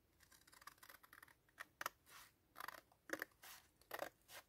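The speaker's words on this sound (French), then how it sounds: "Je découpe au ciseau cette partie-là que je vais quand même pas garder." Scissors snipping through somewhat flexible cardboard while making a junk journal pocket, a run of quiet separate cuts with short crisp bursts and pauses between them.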